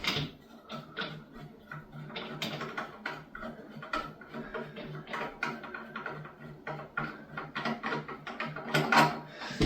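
Plastic clicks and creaks as a loosened clamp is twisted off a toilet fill valve, a close series of irregular ratcheting snaps over about ten seconds with no talking.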